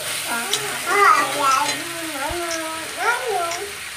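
Vegetables and meat stirred with salt in a cooking pan, soft scraping and sizzling under close, continuous speech.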